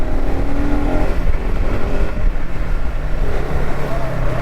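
A motorcycle climbs a steep hill road toward Mussoorie and Landour, its engine a steady, loud drone mixed with rushing wind that never lets up.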